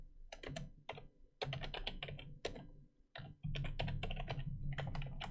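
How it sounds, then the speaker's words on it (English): Rapid bursts of clicking keystrokes on a computer keyboard, close and fairly quiet, in uneven clusters with short pauses between words, alongside a low hum and no voices. "we're gonna type in here Laura and Arbella."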